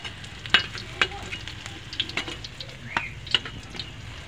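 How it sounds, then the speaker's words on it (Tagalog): Tofu fries in hot oil in a home kitchen, a soft steady sizzle broken by scattered crackles and pops and light stirring clinks, heard close and fairly quiet. "meron na tayong pinainit na mantika. Siyempre prito natin yung ating tokwa."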